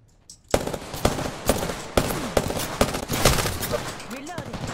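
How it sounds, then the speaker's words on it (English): Gunfire in a shooter game: a sharp burst of loud, separate shots about every half second, each cracking out over a quieter background after a near-silent start. "I'm getting shot at."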